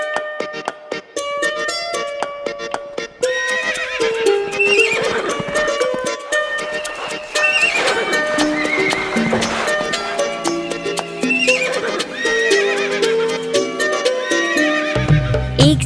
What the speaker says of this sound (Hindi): एक छबीला घोड़ा था